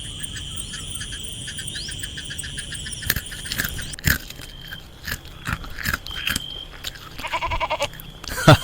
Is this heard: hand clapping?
no